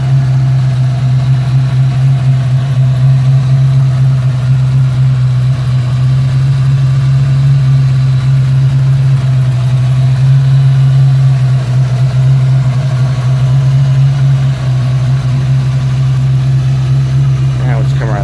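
A 1991 Ford Mustang LX convertible fitted with a cold air intake idles steadily, a constant low drone that holds close and loud throughout without any revving.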